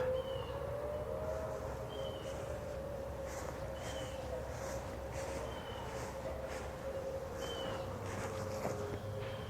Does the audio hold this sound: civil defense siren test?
yes